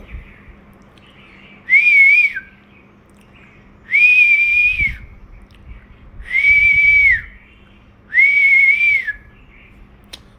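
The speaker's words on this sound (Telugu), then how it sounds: "ఈ మధ్య చాలా చాలా పక్షులు వస్తున్నాయి, భలే సౌండ్స్" Garden birds give four evenly spaced, drawn-out whistled calls, each clear and fairly close, separated by short pauses over faint background hum, with no talking.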